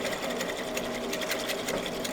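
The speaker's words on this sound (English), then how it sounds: "And you just whisk it together like that." Steady rapid mechanical whirring, loud and continuous throughout, while homemade vinegar BBQ sauce is whisked for pulled pork; no talk.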